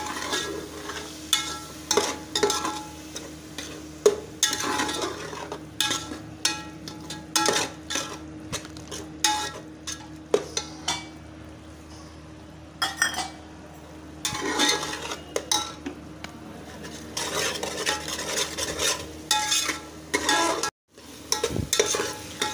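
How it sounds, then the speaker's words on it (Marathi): Pav bhaji masala roasting and being stirred in a pan, with repeated close scrapes and clinks of a spoon against metal over a soft sizzle, in irregular bursts with brief pauses. "मसाला भाजायला लागलाय"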